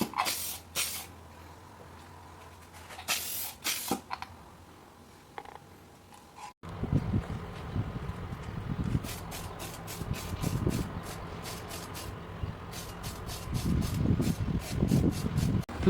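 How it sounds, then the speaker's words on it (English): Spray paint hisses onto parts of a restored 1940s L&R Master watch cleaning machine: a few short bursts first, then a long steady close spray with faint rhythmic ticking under it. "I sprayed 3 layers of paint with 5 minutes of dry time between each coat"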